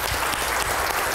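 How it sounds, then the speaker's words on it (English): Audience applause at a seminar's closing panel, a light, polite golf clap: dense, steady patter of many hands clapping continuously for the whole moment, with no voices over it. "Golf clap."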